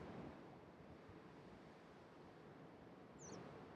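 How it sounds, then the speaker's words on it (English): Steady ocean surf wash, a soft continuous roar of waves with a faint breeze and no voices. "perhaps the sound of the ocean surf"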